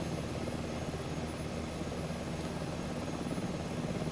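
Mi-2 helicopter engine and rotor in Microsoft Flight Simulator 2024, a steady, dense droning whine with a constant rotor throb, moderately faint and unbroken throughout, with no talking.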